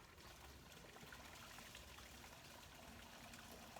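Water trickles and flows outdoors among nature sounds, a soft continuous wash heard faintly and evenly from start to finish, with no voices.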